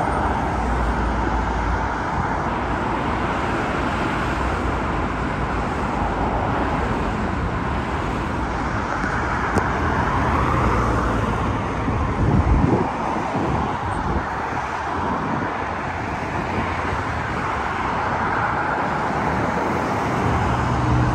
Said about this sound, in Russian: И вот этот вот белый шум или же шум от автомобилей, который постоянно идет с выбросом газов